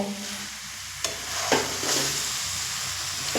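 Steady scraping and stirring of a soft coconut and sugar mixture in a wok over medium flame, with a faint sizzle and a few sharp spatula knocks against the metal, close and alone.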